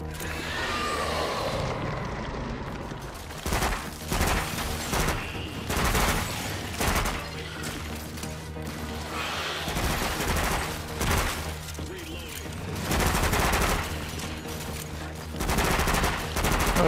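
Repeated bursts of gunfire in the After The Fall VR game as pustules are shot, loud rapid volleys coming in waves with short pauses between them, close and dense.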